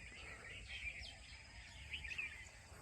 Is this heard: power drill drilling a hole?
no